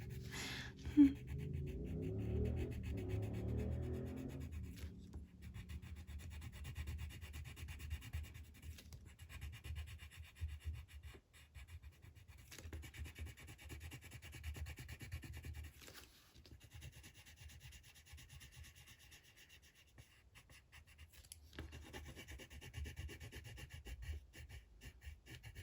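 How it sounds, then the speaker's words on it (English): A colored pencil is burnished firmly across paper in a coloring book, giving soft, continuous close-up rubbing and scratching strokes that stay faint and low throughout, with a brief tonal sound near the start. "We're going to burnish all of this."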